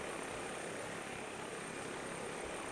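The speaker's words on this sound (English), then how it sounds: "So I've chosen this helicopter because she zooms pretty fast once we get her up to speed here." A helicopter in Orbx Catalina, a flight simulator scene over Catalina Island, flies with a steady loud rotor and engine roar that fills the whole moment without a break.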